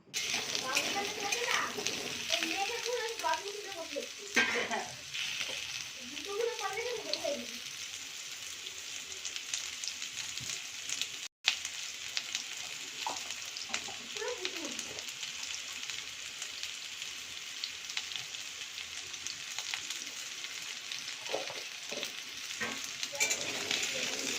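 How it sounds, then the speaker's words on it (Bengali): Potatoes fry in hot oil in a pan, giving a steady close sizzle and crackle that runs the whole time, while voices talk over it at intervals. "এবার ওই তেলে আমি আলুটা ভেজে নিচ্ছি"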